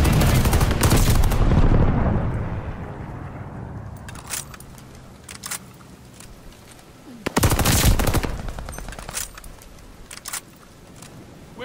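Rapid automatic gunfire in a ranked multiplayer shooter, a loud sustained burst at the start and another near the middle, with scattered single shots and clatter between them.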